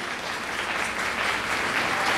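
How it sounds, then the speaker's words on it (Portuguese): Church congregation applauding during a sermon, a dense continuous wash of many hands clapping at a steady level, slightly swelling toward the end. "se você estiver aplaudindo a Deus, você aplauda para valer"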